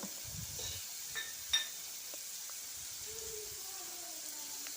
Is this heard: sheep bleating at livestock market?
no